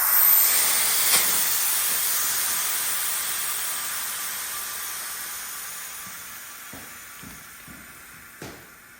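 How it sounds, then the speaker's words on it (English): Air hisses out of a released valve on an oil drain, a loud steady rush that slowly fades over several seconds, with a few faint clicks near the end. "I'm just gonna release this valve to drain the air"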